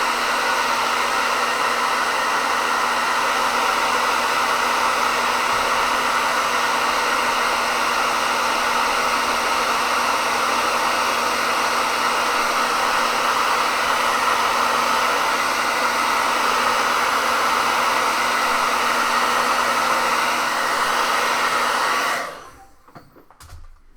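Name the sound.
hair dryer drying paint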